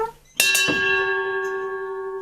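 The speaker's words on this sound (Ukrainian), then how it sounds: "Корабельный колокольчик, который должен звучать так громко, чтобы заглушить шум волн" A ship's bell is struck once, close and loud, with a quick second bounce, then rings out in a long, sustained, slowly fading metallic tone.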